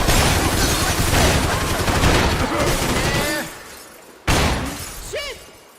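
Heavy gunfire in the Max Payne 3 video game, a dense sustained fusillade mixed with shattering glass and debris, loud and continuous, then one more sharp shot and a brief ringing tail.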